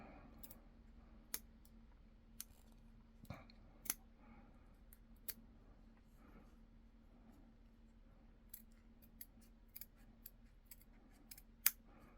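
Quiet, sharp snips of small rounded scissors trimming thread on beadwork come every second or so, crisp clicks over a low steady hum, close up.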